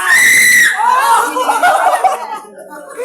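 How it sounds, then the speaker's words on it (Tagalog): At a Teachers Day celebration indoors, a piercing, very loud scream rings out for about half a second, then gives way to chuckling, laughter and chatter from people in the room. "Sino yung sumigaw?"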